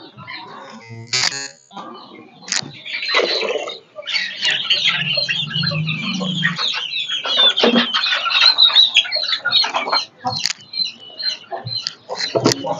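Native chickens in a cage coop cluck and squawk in irregular bursts, with scratchy patter, quick rustles and a few sharp calls close by; a brief low voice-like murmur passes midway.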